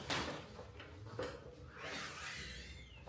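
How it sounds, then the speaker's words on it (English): A door in a house swings shut with a soft knock, followed by a second bump and some rubbing and scraping as it settles closed, all fairly quiet. "let's close the door"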